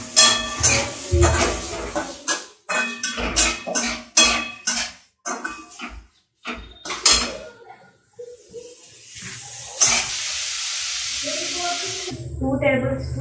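Finely chopped onions tossed into a pan for cabbage Manchurian, with bursts of sizzling and repeated clanks and scrapes of a spoon stirring against the metal pan, close and fairly loud, a steadier hiss toward the end.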